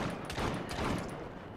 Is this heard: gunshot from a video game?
yes